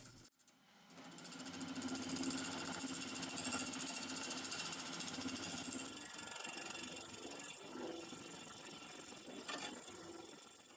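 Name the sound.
wood lathe turning wood and epoxy resin with carbide bits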